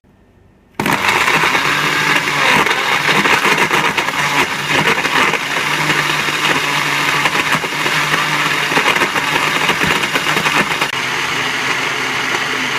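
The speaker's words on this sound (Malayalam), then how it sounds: "ഇതിനെ നമുക്ക് അടച്ചു വെച്ച് നന്നായി അരച്ചെടുക്കാം." A mixer grinder starts up after a short quiet moment and runs loud and steady, grinding dates with cardamom and a pinch of salt into a paste for dates pola.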